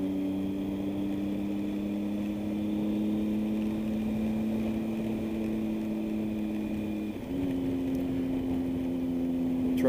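A Triumph Tiger 800 motorcycle engine holds a steady drone while riding, then pitch steps up around seven seconds as it accelerates with traction control engaged, heard continuously up close.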